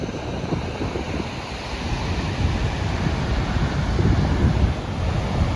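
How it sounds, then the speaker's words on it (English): Roar of an Icelandic waterfall heard from close range after descending steps toward it, a steady, loud broadband rush of falling water with wind buffeting the microphone and no talking. "we took those steps down to come closer and check out the waterfall closer"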